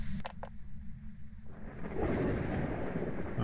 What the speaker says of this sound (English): Oh, this storm is really making it hard to hear this thing.